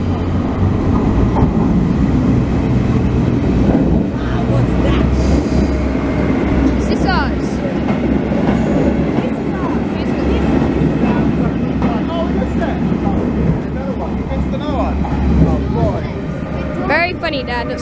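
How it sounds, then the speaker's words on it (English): A maintenance train passes platform 2 on the Copenhagen–Malmö line, making a loud, steady rumble with squeals and clatter from the wheels. Voices talk briefly over the noise. "Here is a maintenance train passing platform 2 here."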